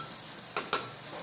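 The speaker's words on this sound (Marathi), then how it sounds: "परतून घेऊया. हिंग टाकूया आणि हलवून घेऊया." Onion and tomato sautéing with asafoetida in a pan, a faint steady sizzle with two short scraping stirs of a spoon close by, no talking.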